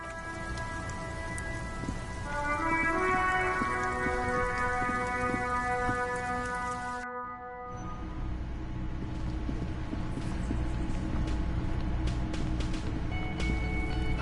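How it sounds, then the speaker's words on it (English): Steady, dense rain from the video game Disco Elysium, heard alone throughout, with a brief dip in the middle before the downpour resumes, joined by distant thunder rumble and faint sustained musical tones. "Stuck in the rain in a traffic jam"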